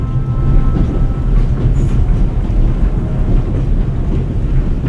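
Freight car rolling along on a train in the video game The Raven, a steady loud rumble with faint rhythmic clatter, continuous throughout and without talk.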